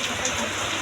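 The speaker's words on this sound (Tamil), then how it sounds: "நல்லாவே தண்ணி தேங்கி ஜம்முன்னு மழை பெஞ்சிட்ருக்குது" Heavy rain pouring down in a village during an unexpected downpour, a dense continuous hiss heard close and alone for under a second.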